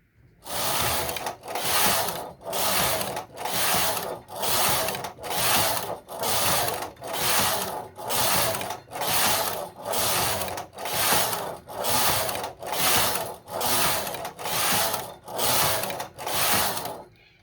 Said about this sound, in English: I'm going to move the lever on the carriage from tuck, and I've now put it onto slip. And I'm going to carry on knitting.